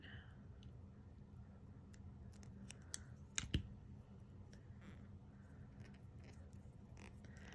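Scissors snip through a nail polish strip during a manicure, a single quiet crisp cut near the mic amid a faint room hush.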